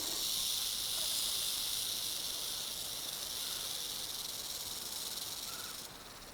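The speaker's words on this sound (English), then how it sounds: "the rattle is one of the most effective defenses in nature, giving fair warning in plenty of time" A rattlesnake's warning rattle: a continuous, dry, high buzzing hiss that holds steady for several seconds, fairly close, then drops off slightly near the end.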